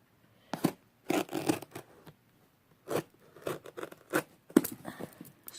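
White packing tape is pulled and torn off a parcel in soft, close ripping and crinkling bursts with quiet gaps between them.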